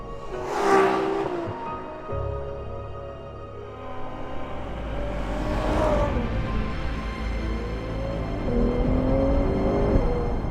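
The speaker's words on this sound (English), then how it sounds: "That is the sound of a naturally aspirated V12 engine." A naturally aspirated 6.5-litre V12 in a 2021 Ferrari 812 GTS revs hard, climbing in pitch in repeated surges with a deep, steady rumble between them, loud and close throughout.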